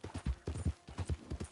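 Horse hooves clip-clop in a steady, fairly close rhythm of roughly ten strikes, a mount trotting in the Red Dead Redemption II video game, with no voices over them.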